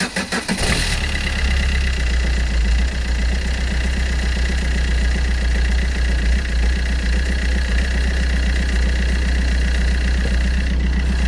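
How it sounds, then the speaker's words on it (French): A Fiat 500 engine with a freshly refitted belt cranks and catches, then settles into a steady, loud, close idle with a rhythmic low throb and a faint whine for the rest of the time. "Donc je vais démarrer le moteur."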